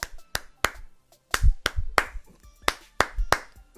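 Sharp hand claps, about nine in irregular bursts, imitating a wrestler's mocking come-on clapping from a heel taunting a hurt opponent at a G1 Climax 30 match; close, crisp, alone.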